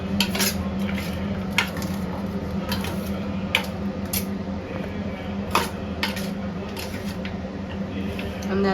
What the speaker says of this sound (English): Giving it a little stir.